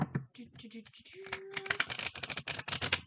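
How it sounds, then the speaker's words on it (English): Tarot cards are shuffled in quick, crisp riffling bursts, close and quiet, with a voice speaking briefly between the shuffles. "Let's give these a couple of good shuffles."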